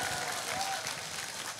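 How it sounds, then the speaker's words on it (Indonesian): An audience claps together for Charlie at a live talk event with Gus Miftah, a brisk, dense burst of applause that stays steady and fairly close throughout. "Tepuk tangan untuk Charlie."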